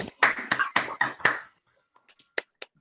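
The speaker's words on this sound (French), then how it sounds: "d'applaudir comme il se doit le Dr Jane Goodall" Sharp, separate hand claps from participants on a call applauding Dr Jane Goodall, a quick run of close claps followed by a pause and a few sparser claps.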